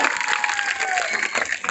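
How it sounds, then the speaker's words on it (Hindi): Crowd at a political rally in Bhagalpur clapping in support of the women present, a dense, sustained wash of applause with faint cheering mixed in. "एक बार हमारी माओ बहनों के लिए आप लोग ताली बजा करके उनका समर्थन करें"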